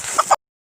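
A chicken being vaccinated gives two short close clucks in quick succession, then falls silent.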